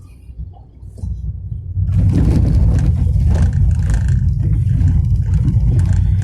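Inside a 2019 Tata Tiago XZ+ after 3000 km, the cabin fills with a low engine rumble that swells as the car is shifted from second into third gear, growing louder and steady with some rattling clatter.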